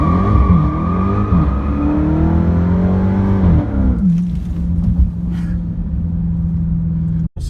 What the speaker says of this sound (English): now we're going to do 0 to 60 in sport mode.